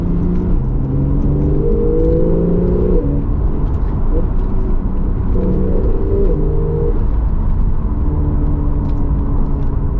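A twin-turbocharged Porsche 911 Targa 4S (991.2) in Sport Plus mode accelerates on a road. Its engine makes a steady, loud drone whose pitch climbs and falls as the revs change.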